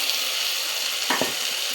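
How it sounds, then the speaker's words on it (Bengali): Pointed gourd (potol) sautéing in a pan makes a constant hiss of frying, with a short scrape of stirring partway through. "5 মিনিট কষে নিতে হবে"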